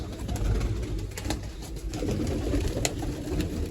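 Sar-far pigeons coo in soft, low, repeated throbs close at hand, several birds overlapping into a continuous murmur.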